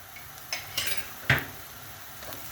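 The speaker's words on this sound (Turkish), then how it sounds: "yağım eriyene kadar tereyağımı kavuruyorum" Butter fries and sizzles softly in a pan while a utensil stirs it, with a few sharp scrapes and clinks against the pan over a faint, steady hiss.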